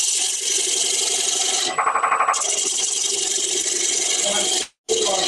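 A wooden beehive yarn bowl is sanded with 40 grit sandpaper, making a loud, continuous harsh rasping under the whine of a spinning machine. A brief stutter breaks it midway, and it cuts out near the end before starting again.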